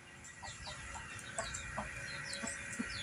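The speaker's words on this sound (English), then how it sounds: "we have a chicken breakout" Loose chickens cluck in short repeated bursts over a steady background hum, soft and somewhat distant, with no voices.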